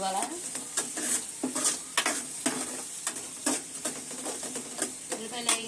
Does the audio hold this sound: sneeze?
no